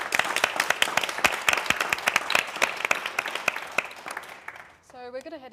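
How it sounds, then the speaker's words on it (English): A television studio audience at a live special gives a brisk round of dense clapping that fades out after about four seconds. A voice then starts speaking. "a warm round of applause for our guests."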